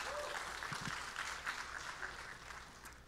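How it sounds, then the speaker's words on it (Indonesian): Faint, distant applause from a church congregation during a worship service, a soft wash of clapping with a few louder bursts that continues through the short stretch. "Kasih tepuk tangan buat Tuhan,"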